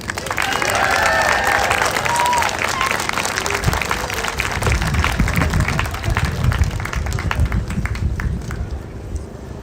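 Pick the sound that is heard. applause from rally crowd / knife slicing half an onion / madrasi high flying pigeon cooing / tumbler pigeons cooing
applause from rally crowd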